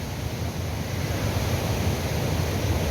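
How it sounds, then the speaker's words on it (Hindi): Churning, turbulent water pours over a large canal weir near Sirhind, making a loud, continuous, close-up roar with no pauses. "देखिए कितनी बड़ी झाल है, कितना खोलता हुआ पानी है।"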